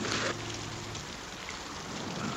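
Storm rain falls heavily and continuously, a dense, steady hiss of drops on surfaces without a break, with a brief louder burst at the very start.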